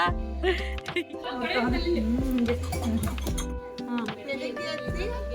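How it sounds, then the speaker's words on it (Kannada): Dishes and metal utensils clink and clatter close by as they are washed, while a person talks over the noise. "ನಮ್ಮ ಅಕ್ಕ ಪಾತ್ರೆ ತೊಳಿತಾ ಇದ್ದಾರೆ"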